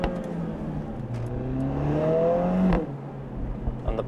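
A Mercedes-AMG CLA45 S engine revs up with a rising, whining exhaust note, then ends in a sharp exhaust bang, followed by a few smaller crackling pops as the revs drop.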